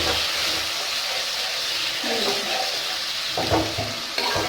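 Cumin and browned onions frying in oil for a desi chicken curry, a dense steady sizzle filling the clip, with a few soft stirring knocks near the end.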